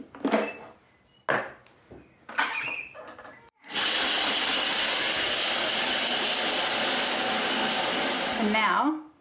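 A Thermomix breaks chocolate into smaller pieces: a few short knocking bursts come first, then a loud, steady blade whir runs for several seconds before cutting off.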